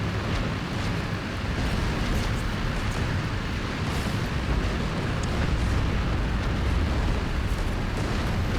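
Cannon fire and explosions in the video game Outpost Infinity Siege make a dense, loud, continuous rumble of overlapping blasts with sharp bursts scattered throughout and no pause.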